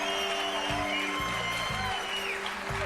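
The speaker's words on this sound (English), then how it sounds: "You heard the cheer." A game show studio audience cheers and applauds in a dense, continuous wash of crowd noise, steady and loud throughout.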